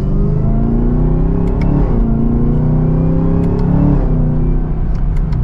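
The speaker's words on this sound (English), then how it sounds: "with a mild acceleration, we got some pops in that exhaust" A 2023 Chevrolet Camaro ZL1 Convertible revs and accelerates from second gear with a deep, steady rumble, shifting pitch through the gears, punctuated by a few sharp pops and crackles from the exhaust.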